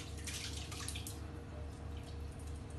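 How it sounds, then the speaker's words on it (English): Liquid drains steadily from soaked offal in a colander, a close, continuous trickle and drip at low level with no talking. "So we're going to drain it in a colander,"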